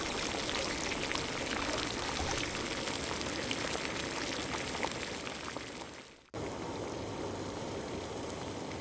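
Water heating in a pot at a hot spring in Assam's Garampani Wildlife Sanctuary gives a steady, dense rushing and bubbling wash, close and continuous, with a brief dip near the end before it resumes.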